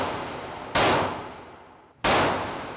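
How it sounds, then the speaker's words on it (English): Two sharp gunshots at an indoor shooting range, each a loud abrupt crack with a long decaying echo, spaced about a second and a half apart, no talking. "Let's shoot a gun."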